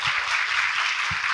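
Applause from an audience at a talk show, a short burst of steady, dense clapping from many people with no voices over it.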